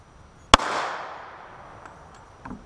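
A single sharp gunshot from a .45 Super handgun loaded with H110 powder, fired outdoors with a loud crack followed by a long fading echo, then a faint click near the end.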